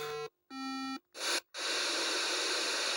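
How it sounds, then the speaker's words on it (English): Steady low-pitched electronic beep from a RasPad tablet, a flat sustained tone that cuts out and returns in short bursts before giving way to hissing noise. "Lower constant beep."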